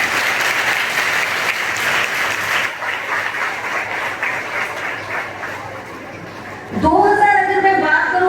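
A school audience at a charity trust ceremony for meritorious students claps loudly and steadily for several seconds, then the clapping dies away and a voice begins speaking.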